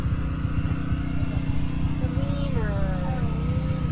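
A homemade Dingo Moto mini bike's small engine idling and puttering steadily nearby, a loud rapid rhythmic chug with faint pitch-sliding whine over it toward the end.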